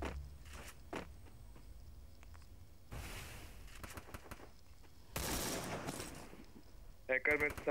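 Bursts of gunfire from a first-person shooter video game crackle through a busy game soundscape, with a couple of louder volleys, scattered footsteps and a voice now and then.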